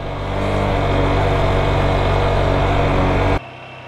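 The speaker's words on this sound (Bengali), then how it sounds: "ফার্স্ট গিয়ারে কতক্ষণ ধরে বাইক চালাচ্ছি, বাইকে তো প্রচুর সাউন্ড হচ্ছে বাট চলতেছে" A Lifan KPR motorcycle runs in first gear, its engine a loud, steady close drone that holds constant before dropping abruptly to a lower hum near the end.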